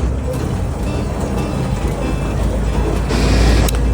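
The Sonoma Valley Trolley sets off toward the Carneros area, a steady close engine rumble that swells toward the end as it gets moving, with faint talk in the background.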